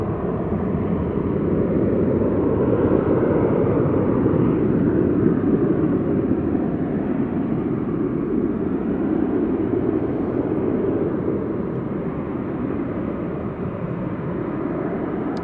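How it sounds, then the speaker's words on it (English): A Ryanair jet starts its takeoff roll at Manchester Airport, giving a steady, broad engine roar that holds loud and even for the whole stretch, with no talk over it. "the Ryanair should be on the roll any moment"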